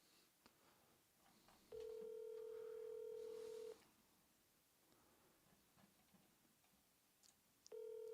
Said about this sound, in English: Let's call the realtor.